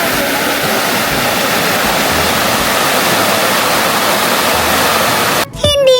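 Loud, steady roar of a rain-swollen river rushing beneath a bridge in a remote area fills the whole span, with a brief change in the sound near the end.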